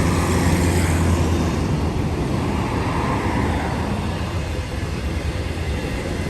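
Union Pacific empty coal train rolls past, a continuous broad rumble and roar of wheels on rail, loud and steady throughout without pauses or voices.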